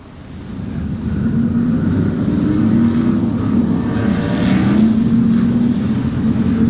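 Modified race cars roar around a speedway track on a Saturday race night, and their engines make a loud continuous rumble that rises and falls.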